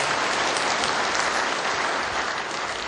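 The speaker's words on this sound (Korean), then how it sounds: "우리 이서정 상임고문님께 다시 한번 뜨거운 박수 부탁드리겠습니다." Steady audience applause fills a Korean civic group's launch ceremony, many hands clapping in a dense, even roar that holds for about three seconds with no voices over it.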